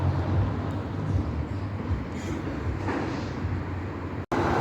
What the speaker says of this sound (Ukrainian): Ось такий трамвай курсує Одесу.